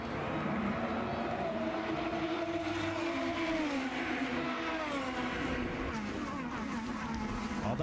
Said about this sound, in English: Let's listen, going through the gears up to 160 miles an hour to turn 1.